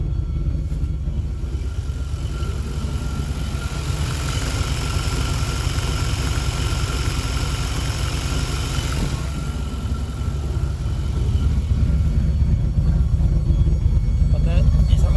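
Loud, steady idle of a car engine with TBI fuel injection, running continuously and growing louder toward the end, with a person talking over it.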